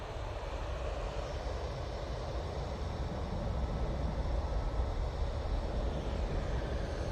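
An easyJet Airbus A320ceo airliner at Manchester Airport gives off a steady, broad engine roar that holds at an even level throughout, with no voices.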